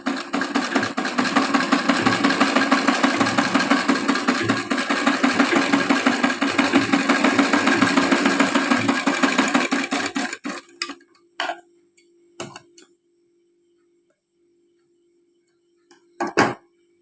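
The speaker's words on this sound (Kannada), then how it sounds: "ಈಗ ನೆಕ್ ಹೊಲಿಯೋದನ್ನು ತೋರಿಸ್ಕೊಡ್ತಿದ್ದೀನಿ" A sewing machine runs steadily while stitching a boat neck on a jacket top, a loud continuous whirring that stops after about ten seconds, followed by a few short clicks and a brief final burst.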